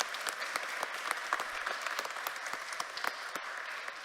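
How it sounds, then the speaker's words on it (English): An audience claps steadily, a dense patter of many hands sustained throughout without cheering. "Can we all give our panel a big round of applause?"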